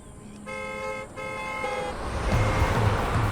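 Busy roadway traffic with cars and trucks passing close by, broken by two long sustained horn blasts early on, then a rising roar of approaching vehicles and several short honks near the end.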